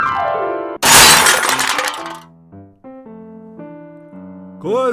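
Glass windows shatter in a loud, bright crash that breaks off a held musical chord, with debris tinkling for about a second before sung musical notes resume.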